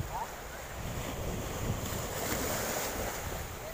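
Strong wind blows over the sea around a fishing boat off Atimonan, Quezon, a continuous roaring rush of gusts and wave wash buffeting the microphone.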